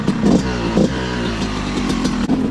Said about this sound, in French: on sent que c'est une vieille moto à rouler quoi, ça vibre